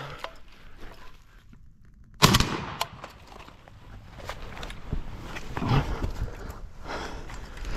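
A gun fires a magazine of corrosive surplus ammunition outdoors in wet, muddy conditions, with sharp, loud shots at irregular intervals after a quiet start and faint rustling between them.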